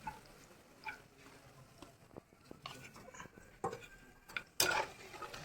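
A metal ladle scrapes and clinks against a wok in a few sharp, scattered hits while fried nimki is lifted from the oil, with a faint sizzle underneath.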